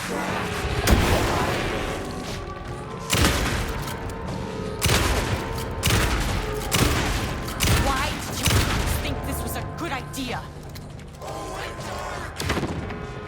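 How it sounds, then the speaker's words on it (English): In the horror game Alan Wake 2, a flashbang goes off amid a tense fight, with repeated loud booming bursts and clanking mechanical noise over a dense, rumbling game soundscape. "Here, I have a flashbang."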